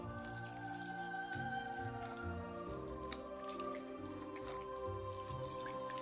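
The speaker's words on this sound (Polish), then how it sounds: "Stopniowo wlewać ciepłą wodę." Warm water pours and drips steadily into spelt bread dough for several seconds, with small wet squishing sounds close by and no talking.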